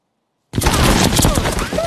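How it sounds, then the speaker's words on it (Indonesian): Bursts of machine gun fire in a Vietnam War film set in 1966 erupt suddenly after silence, a loud dense crackling barrage of rapid shots that continues with dramatic sound layered underneath. "mereka langsung ditembaki musuh dengan tembakan mesin dari arah tak terduga."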